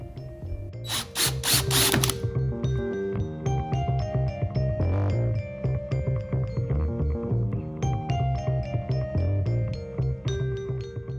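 A power drill whirs steadily into plywood, its motor pitch wavering as the bit bites, with a brief burst of higher grinding near the start.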